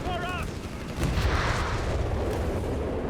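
Vesper artillery fires in Company of Heroes 3 on a World War II battlefield, a heavy boom rolling out after a short opening sound, followed by a sustained rumbling blast wash that stays loud.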